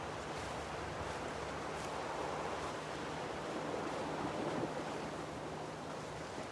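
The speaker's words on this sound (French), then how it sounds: "on commence à entendre le glouglou" Mountain stream at the source of the Tarn gurgling steadily, a soft continuous wash of water with faint wind, fairly quiet and distant, no voices.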